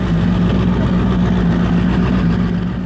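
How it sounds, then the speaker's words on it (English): A turbocharged V8 engine fitted into a personal watercraft gives a loud, steady, deep rumble that holds constant, close up and with no voices. "I stuffed a V8 engine into a personal watercraft."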